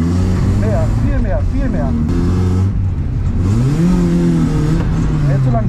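A car's engine revs hard at full throttle while drifting at a drift event, its pitch climbing and falling in loud surges under a man's continuous spoken instructions.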